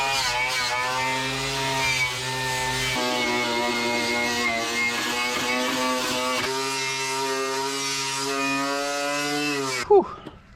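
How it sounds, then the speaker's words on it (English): Drilling out spot welds on the floor pan of a Nissan 240SX, a loud continuous high whine from the drill biting through sheet metal for about ten seconds, then it cuts off abruptly with a short clunk. "start drilling those puppies out"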